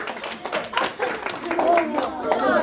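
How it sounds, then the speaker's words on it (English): Audience clapping at a sports awards gala night, a burst of hand claps close and moderately loud, with speech-like sounds mixed in among the applause. "Give that man a round of applause."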